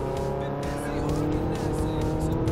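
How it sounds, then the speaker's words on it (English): A race car engine revs hard in the Forza Motorsport 3 video game, a steady loud drone with some tire noise, running continuously and close throughout the short clip with no gaps. "I'm revving the shit out of this thing."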